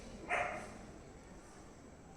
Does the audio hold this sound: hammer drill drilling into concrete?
no